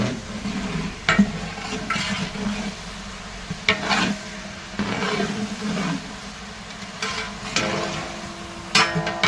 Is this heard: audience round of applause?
no